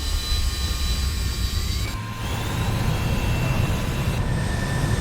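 A jet afterburner roars in the War Thunder flight game, a loud, steady engine rush that dips briefly, then returns with a rising whine and slightly deeper rumble, heard alone without talk.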